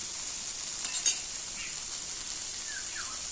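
Potato cubes fry with spices, ginger paste and salt in a steady hissing sizzle, broken by a brief spoon clink and scrape near the start.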